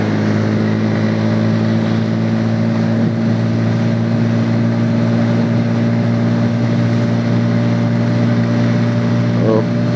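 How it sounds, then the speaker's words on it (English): A Bajaj Pulsar P150 motorcycle cruises at around 100 kph with a steady, loud engine drone and rushing wind, while the rider talks over it. "right now I think I'm around 100 kph, and yes, the bike is holding on to it very effortlessly"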